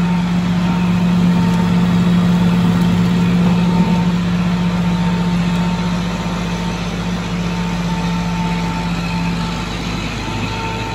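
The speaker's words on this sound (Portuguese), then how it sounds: "Teste de produção dentro da empresa. Tocado pela tomada de força no trator." A Fox model 1014 sugarcane mill rated at 1,000 litres of juice per hour runs off a tractor's power take-off, giving a loud, steady engine-and-machinery drone with a constant low hum throughout.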